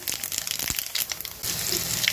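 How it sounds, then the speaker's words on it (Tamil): Fennel seeds sizzle in hot oil as a steady crackling hiss, close and fairly loud, with no voices. "எண்ணெய் ஹீட் ஆகிட்டு சோம்பு போட்டு தாளிச்சிக்கலாம்."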